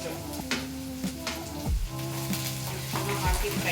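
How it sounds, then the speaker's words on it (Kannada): Ginger garlic paste with curry leaves and red chilli frying in hot oil for a dal khichdi tempering, a close, crackling sizzle with stirring scrapes and a steady electrical hum underneath. "ಹಾಕಿ ಫ್ರೈ ಕೊಡ್ತಾ ಇದ್ದೀನಿ."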